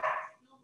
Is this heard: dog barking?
yes